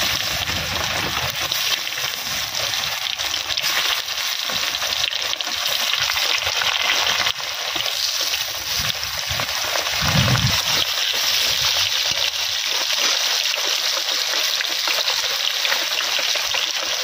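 Potatoes frying in a pan give a steady, loud bubbling sizzle with a splashy, watery hiss that runs unbroken throughout, close up and with no talk over it.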